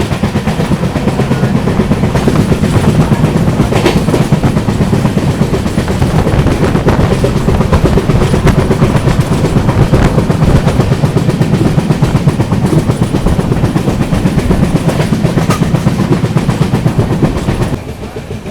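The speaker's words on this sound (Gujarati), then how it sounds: "તો ભાઈ ફાઇનલી 4 કલાકના ડિલે સાથે આપણી ટ્રેન નીકળી ગઈ છે અત્યારે પનવેલ રેલવે સ્ટેશનથી." The Goa to Rajkot express 19577 runs steadily after leaving Panvel station, a loud continuous rumble and rattle of wheels on rail that holds for the whole stretch and eases slightly at the very end.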